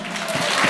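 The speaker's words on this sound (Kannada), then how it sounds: "ಅವ್ರಿಗೆಲ್ಲ ದೊಡ್ಡ ಚಪ್ಪಾಳೆ." A brief burst of dense, loud clapping from a crowd at a community gathering of the RMKS eV association in Frankfurt, steady and close throughout the short moment.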